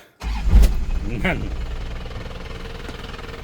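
A pickup truck engine cranks and catches with a loud start, then settles into a steady rumbling idle while someone speaks briefly.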